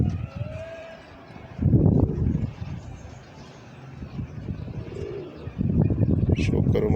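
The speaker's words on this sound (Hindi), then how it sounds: "यह कबूतर है भाईजान" Low, rounded cooing from a Teddy pigeon rises and falls in a few soft bursts, close by, with faint chirps and background murmur between them.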